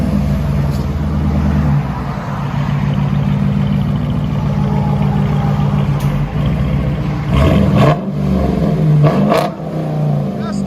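A 2020 Dodge Durango R/T 5.7L HEMI V8 with straight-pipe dual exhaust and rear delete with 5-inch tips, loud and close: a deep idle rumble, then several sharp revs rising and falling near the end.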